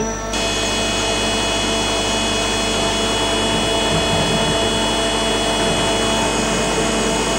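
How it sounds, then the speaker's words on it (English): A Melbourne-made milling machine from the early 1980s with a laser attachment hums steadily, a dense, loud, unbroken mechanical drone holding at an even level throughout. "The milling machine does the rest."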